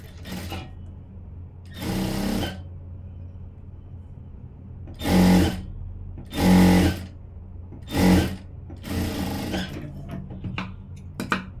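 An electric sewing machine stitches the sleeve of a blouse in several short bursts of rapid mechanical chatter, close and moderately loud, separated by pauses of quiet handling.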